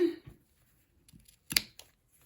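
Scissors snipping through ric rac trim during a sewing binding job, a few quiet, crisp close cuts with one sharper snip in the middle, no talking.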